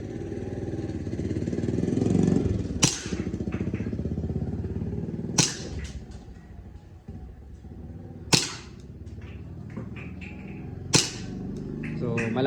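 A Tokyo Marui Hi Capa airsoft pistol fires 0.2 gram BBs at a target, four sharp, spaced snaps a few seconds apart over a steady engine-like hum, with a voice talking between shots.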